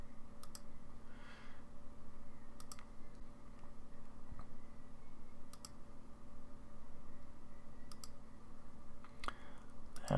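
A computer mouse clicks repeatedly while stepping through frames in video analysis software, giving faint, sharp, evenly spaced clicks over a steady background hum.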